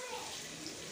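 Water is poured into a hot pan of frying rita fish, giving a brief, even hiss and rushing splash that stays steady throughout.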